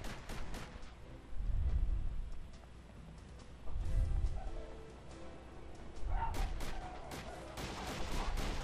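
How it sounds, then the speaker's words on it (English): Grenades go off in Socom 2 during an online match, with three deep, booming explosions spaced a couple of seconds apart amid scattered gunfire and other game noise. "the explosions at the beginning of the game, that's people throwing grenades"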